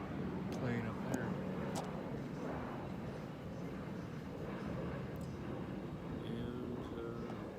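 A large airplane passes overhead, a steady broad rumbling roar that holds throughout at a distance, with occasional faint clanks from an equipment yard.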